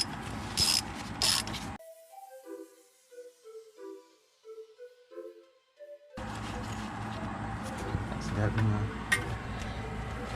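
A ratchet works a 10 mm bolt loose from a brake line bracket on the upper control arm of a Tahoe, with quick close clicking bursts at the start and toward the end and a voice talking over parts.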